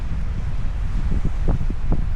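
Strong wind at Mono Lake roaring into the microphone as a heavy low buffeting rumble, with gusty swells rising and falling throughout, no voices.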